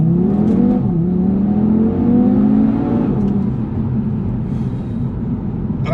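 A new 2019 Audi TT RS engine revs up strongly nearby, rising pitch sweeping upward and dipping between gears, then settling into a steady loud drone while driving.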